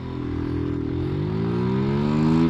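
A Yamaha WR125 motorcycle races by on the road with a loud, close engine drone whose pitch climbs steadily as it accelerates, continuous throughout with no talk.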